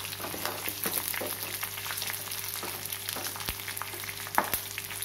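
Dried red chillies and tamarind fry in a pan for a pennywort (vallarai keerai) chutney, giving a steady close crackling sizzle with occasional scrapes and clicks of stirring, and no talk.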